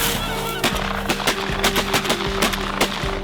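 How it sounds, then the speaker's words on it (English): Rapid shotgun blasts crack out during a field goose hunt, several loud shots in quick succession over continuous honking of geese close by. "Nice shot, Brady."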